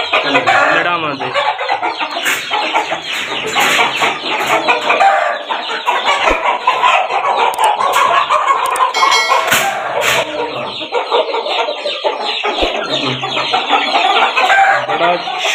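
Aseel champion roosters crow and cluck loudly and continuously, several birds overlapping close by, with voices talking faintly among them.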